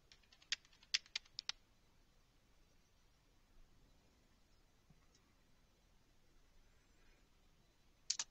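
A command is typed on a computer keyboard, a few quick, faint, sharp key clicks at the start and a short cluster at the end, separated by near silence in a quiet room.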